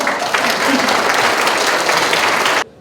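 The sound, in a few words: audience applause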